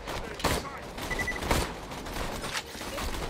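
Rapid gunfire from the video game Borderlands 2 bursts repeatedly over a dense, noisy mix of game effects, with several heavier shots standing out.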